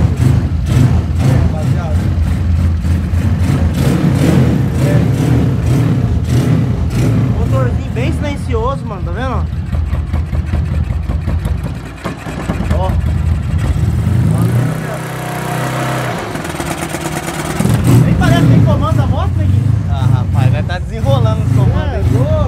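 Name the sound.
modified 190 kit motorcycle engine starting and running on gasoline, Fortuna exhaust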